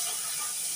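Water hits a hot frying pan and bursts into a loud, continuous steamy hiss that stays level and close from start to finish.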